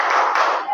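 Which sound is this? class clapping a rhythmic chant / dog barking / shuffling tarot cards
class clapping a rhythmic chant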